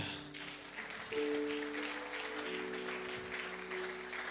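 A church congregation at a Sunday service applauds the Lord with sustained, moderately distant clapping that blends with held organ or keyboard tones and a busy room wash.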